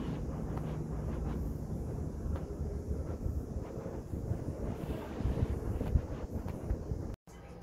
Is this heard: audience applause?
no